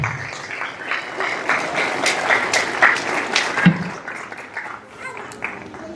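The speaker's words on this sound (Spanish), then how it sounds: "Dale fuerte palmas como para el Señor." A church congregation claps together at a pastor's prompt, a moderate, fairly even patter of many hands with voices mixed in beneath it, continuing for several seconds at a middling level.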